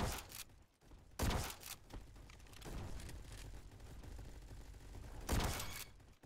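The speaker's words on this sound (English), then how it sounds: "How the heck am I supposed to snipe these guys when there are two of them sniping at me?" Sniper rifle shots crack out in the Roblox game Arsenal, a few sharp bursts spaced apart over a steady background of game noise.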